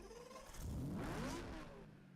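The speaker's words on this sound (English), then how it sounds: "This has a V16, but we gave it a V12 sound because V16 sound terrible." A V16 car fitted with a V12 engine sound in a racing game mod revs up and eases back, a smooth rising and falling engine whine, moderately close with no talking.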